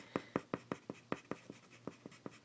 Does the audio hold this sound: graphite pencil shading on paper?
yes